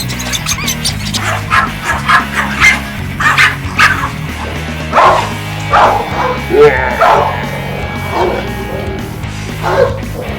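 An angry dog barks repeatedly in bursts, with yips and whimpers mixed in, up close over a steady low hum, while a person talks at times between the barks.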